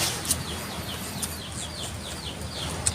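Native chickens cluck and chirp softly at a moderate distance, with a few brief sharper calls over a low background hum.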